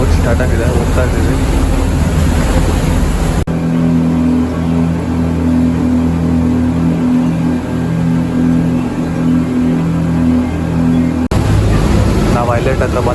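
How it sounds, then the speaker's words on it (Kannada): A tour boat motors along on a Phi Phi Islands trip in Thailand, its engine a loud steady drone with a smoother, tonal hum in the middle stretch, while voices talk over it at the start and end. "ಬೋಟ್ ಸ್ಟಾರ್ಟ್ ಆಗಿದೆ, ಹೋಗ್ತಾ ಇದ್ದೀವಿ."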